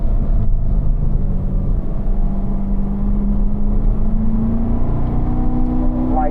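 A race car accelerates out of a corner on the Spring Mountain track, its engine droning loud and close and rising steadily in pitch as it gathers speed, with no one talking.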